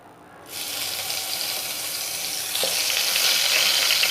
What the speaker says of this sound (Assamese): এতিয়া মই বেঙেনাখিনি ইয়াতে দি দিছোঁ